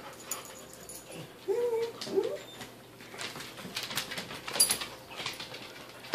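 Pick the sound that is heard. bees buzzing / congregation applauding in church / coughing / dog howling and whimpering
dog howling and whimpering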